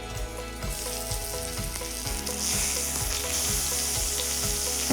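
Steady, loud sizzling of meat frying for piccata in a pan over medium to medium-low heat, with occasional low knocks and scrapes from stirring, no talking.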